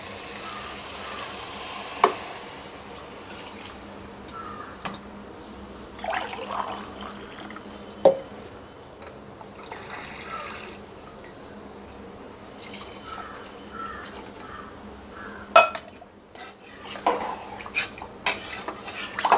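Two cups of water poured into a pot of rice while making chicken biryani, a steady close splashing and trickle with occasional clinks of utensils and cookware, no talking.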